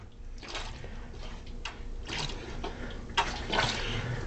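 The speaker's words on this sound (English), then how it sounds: "I feel he is getting more water in his bucket." Water being poured and splashed into a bucket during a water transfer contest, with several irregular sloshing bursts and splashes close by over a steady watery background.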